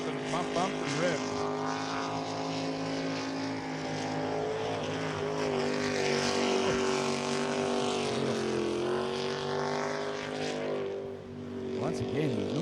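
A jet sprint boat engine roars around a West Coast Jet Sprint Club race course, loud and sustained, its pitch rising and falling as it revs through the bends, with a voice talking over it.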